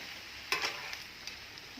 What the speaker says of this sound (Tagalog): Mag-add ako ng water. Maluto siya.